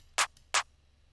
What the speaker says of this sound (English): Then we're gonna have a clap.